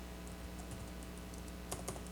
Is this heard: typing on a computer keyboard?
yes